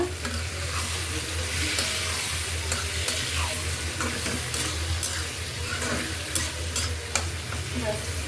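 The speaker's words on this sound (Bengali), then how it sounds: "আর একটু হোক ভাজা ভাজা" Food with tomato and garam masala sizzles steadily in a pan while a spoon stirs and scrapes, with scattered sharp clicks and pops throughout.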